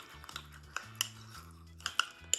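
A utensil clinks and scrapes against a bowl, mixing an avocado toast topping with vegetarian oyster sauce: quick irregular taps and stirring sounds, close and fairly quiet.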